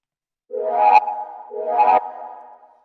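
Two swelling synth chords for deep micro house, each processed with chorus, echo and a high-pass filter, sound one after the other in isolation, the second fading in and trailing off into an echoing tail.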